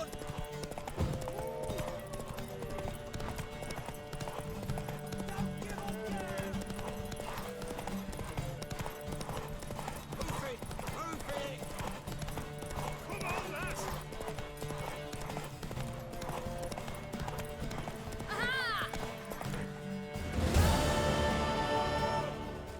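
Hooves of a horse clip-clop steadily through a horse race in The Witcher 3 video game, a continuous rhythmic patter under a busy game soundscape, with a louder burst near the end.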